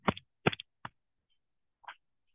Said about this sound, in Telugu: మళ్ళీ ఒకసారి అందరం ట్యాప్ చేద్దాం ఇట్లాగా